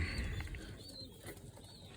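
Pigeons coo softly in a loft of young birds, a few low, rounded calls repeating at a distance against quiet background.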